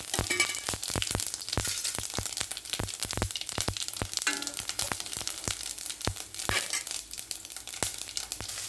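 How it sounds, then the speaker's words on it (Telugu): Mustard seeds, fenugreek, asafoetida and dried red chilies fry in hot oil in a kadai, a quiet sizzle peppered with dense, sharp, irregular popping crackles throughout; no speech. "ఇలా కడాయి పెట్టుకుని ఆవాలు మెంతులు ఇంగువ ఎండుమిర్చి పోపండి"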